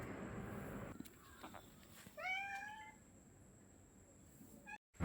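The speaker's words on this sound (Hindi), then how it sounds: "और यहाँ पे ये भी मुझे मिल जाती है एक बहुत प्यारी सी बिल्ली।" A small cat in a house in Pondicherry, Tamil Nadu meows a few times, a clear near call around the middle followed by a brief second meow, over soft background noise, with no talking.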